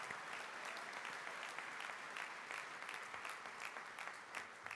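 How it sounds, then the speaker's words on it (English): Audience applause at a bilingual education conference general session, a dense steady clapping from a large crowd that holds at an even level throughout. "Give yourselves a round of applause."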